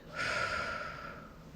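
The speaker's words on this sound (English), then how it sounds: "Breathe in and out." One slow, audible breath is drawn in and let out during a relaxation exercise, a soft, close airy hiss that swells and fades across a second and a half.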